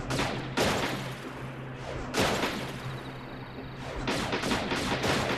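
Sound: gunshots in Wii Play clay shooting video game

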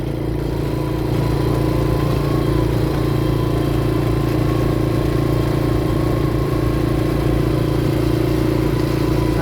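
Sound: vehicle driving on muddy road

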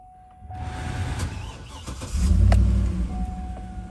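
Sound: GMC Yukon Denali engine running after cranking

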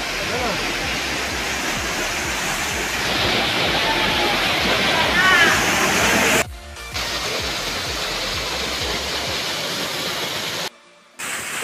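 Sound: waterfall

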